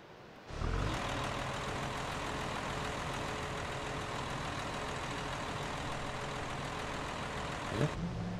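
Truck engine in the survival game Eco, a steady droning run that starts abruptly, holds at an even level for about seven seconds, then cuts off with a brief clunk.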